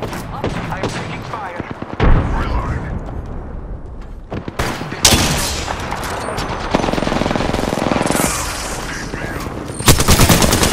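Rapid automatic gunfire and sharp single shots in Apex Legends, loud and close, coming in repeated bursts with brief pauses and a couple of heavier booms, while a voice talks intermittently over the shooting.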